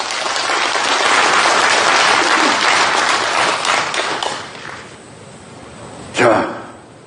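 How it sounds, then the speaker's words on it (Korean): An audience at a Gwangyang business leaders' day ceremony gives loud sustained applause that fades out over several seconds, followed by a short burst of speech. "큰 박수 한번 보내주십시오"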